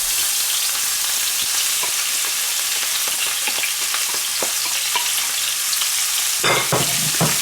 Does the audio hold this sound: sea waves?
no